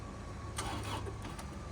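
An abandoned excavator's engine cranks and churns, trying to turn over, with a steady mechanical drone and a few sharper bursts, close by and without talk.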